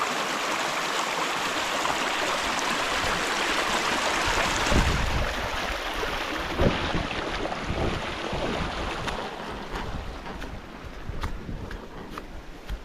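Water pours and rushes continuously at a spring on a farm, a steady broadband wash that stays loud and close before easing slightly, with no talking.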